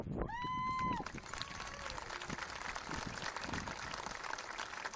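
Audience applause breaking out at a 2023 graduation ceremony for a student, steady broadband clapping that continues throughout after a brief tonal sound at the start.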